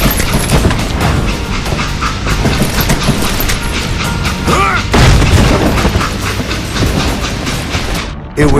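A train in the Western video game Call of Juarez Gunslinger rumbles and clatters loudly and without a break through a busy action scene, with a heavy boom near the middle and a short drop-out near the end.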